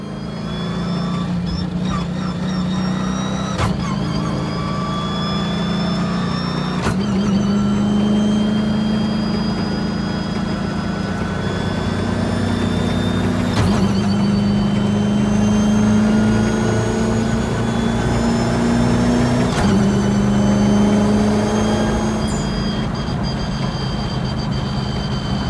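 A car accelerates hard through the gears during break-in driving, reaching almost 90 mph before sixth gear. A loud engine note climbs in pitch, then drops sharply at each of several gear changes.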